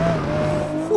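A Lykan Hypersport in Forza 6 holds a high, steady whining engine note near its rev limiter, with tire noise underneath. The burst is brief and close, and a slight bump in level comes near the end.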